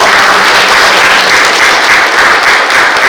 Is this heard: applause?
yes